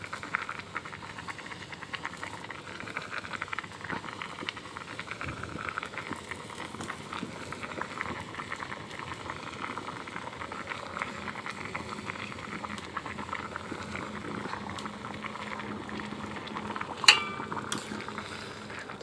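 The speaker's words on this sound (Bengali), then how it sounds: "তো দেখো ঝোলটা কিন্তু এখানে ফুটে গেছে।" Fish curry broth boils hard in a pot at home, a steady close bubbling and popping that carries on throughout, with a faint utensil clink near the end.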